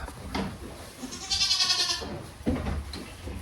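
A goat on a farm gives a loud, wavering bleat near the middle, with shorter bleats and rustling from the herd at hay time around it.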